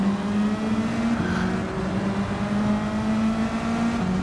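Race car engines in Gran Turismo 7 drone loudly through a drag race toward a chicane, a sustained whine with shifting pitch and brief gear-change dips, steady and close with no talk.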